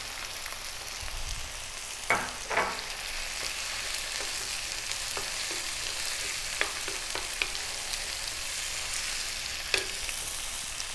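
Garlic ginger paste sizzling in a pan of tomato curry base, a steady close frying hiss with a few sharp clinks and scrapes of stirring, no voices.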